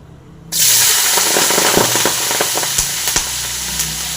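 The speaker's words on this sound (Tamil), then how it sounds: "இப்போ எண்ணெய் சூடாகிடுச்சுங்க பிரண்டை மட்டும் போட்டு நல்லா ஃப்ரை பண்ணிடலாம்" Fresh pirandai (adamant creeper) stems drop into hot oil for a Tamil chutney, and a loud sizzle bursts in suddenly. It carries on with sharp crackling pops and spatters over several seconds.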